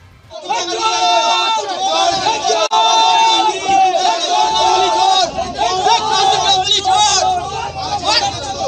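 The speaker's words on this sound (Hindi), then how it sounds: "भीड़ ने इन्हें टीएमसी के फ्लैग से बना माला पहनाने की कोशिश की और चोर चोर के नारे लगाने लगे" A large, agitated crowd in Bengal shouts 'thief, thief' at TMC men being led away under arrest, a dense, loud wall of overlapping voices and chanting that runs continuously with a few sharper cries.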